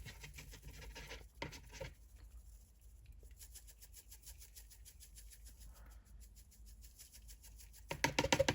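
Static grass shaken through the wire mesh of an applicator bottle onto a model railroad pond scene, a faint, steady fine pattering and scratching that runs for several seconds, close and quiet.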